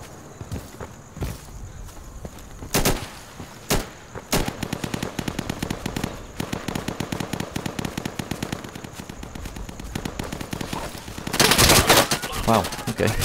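Rapid automatic gunfire in the tactical shooter Insurgency, sustained bursts with scattered single shots and footsteps, loud and close, with a heavier burst near the end.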